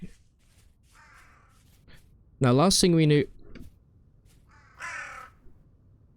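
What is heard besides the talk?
crows cawing in the video game Vintage Story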